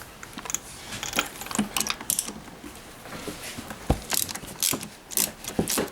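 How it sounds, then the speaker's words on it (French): A 16 mm socket with a universal joint and short extension working on a spark plug of a Gilera GP 800 scooter: close metallic clicks, ratcheting and clinks in irregular bursts, with no talking. "j'utilise en fait une douille de 16, un cardan et une petite rallonge pour celle qui est"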